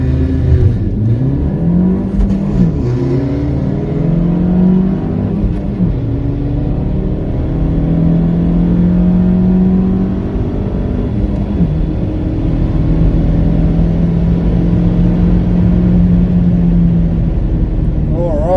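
A Ford Fiesta ST on a Revo Stage 2 tune accelerates hard down a quarter-mile drag strip, the engine rising steadily in pitch through several gear changes over a continuous loud in-cabin drone.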